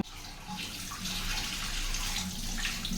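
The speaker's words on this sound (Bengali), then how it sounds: "কুলি করতেছ" Tap water runs steadily into a sink as a child rinses their mouth after brushing their teeth before bed. The splashing stream is close and continuous, with small splashes and no talking.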